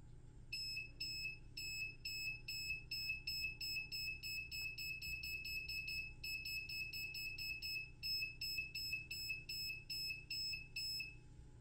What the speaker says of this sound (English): As the distance gets smaller and smaller, the delay for the buzzer gets shorter, so it beeps faster.